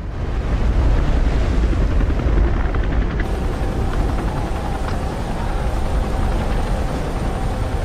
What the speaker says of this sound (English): They are then rescued by a helicopter piloted by Jill and Josh.